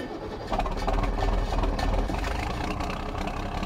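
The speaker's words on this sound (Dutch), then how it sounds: "Met een nieuwe Fiat 180 Turbo DC. Oh, die hoort stoer, jong." Fiat 180 Turbo DC tractor engine idling in Farming Simulator 2019, a steady low rumbling drone that steps up in loudness after half a second and holds, fairly quiet.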